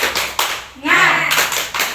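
Several people clap in quick bursts, with a voice speaking between the claps; close and fairly loud.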